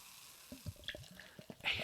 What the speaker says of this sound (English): We'll pour in some Fruit Quake